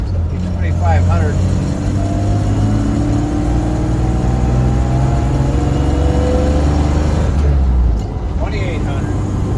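A 1966 Land Rover 109 with a six-cylinder engine drones loudly and steadily up close, its pitch rising and falling through long revving sweeps, with a brief lull near the end.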